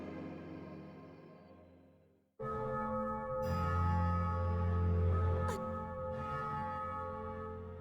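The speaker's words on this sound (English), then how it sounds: "The bells of your funeral." Funeral bells toll in a GrimGrimoire video game cutscene: a sustained ringing tone fades to near silence, then a loud, deep bell strike blooms into long, resonant overlapping tones with a sharp accent partway through.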